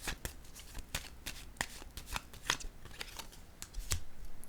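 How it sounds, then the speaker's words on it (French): Tarot cards being handled and laid down on one another: a quick series of soft papery snaps and slides, irregular and close, quiet with no speech. "Je vais déposer une carte sur celle-ci."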